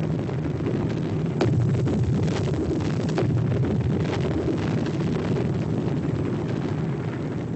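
Anak Krakatoa volcano erupting, a continuous loud roaring rumble with scattered bursts and crackles, steady and dense throughout with no voices.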